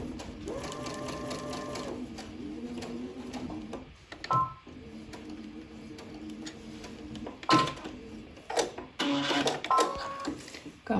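A domestic sewing machine runs very fast while stitching a quilt panel, a dense rapid whirring hum in long bursts broken by short pauses and clicks, close and clear with no talking.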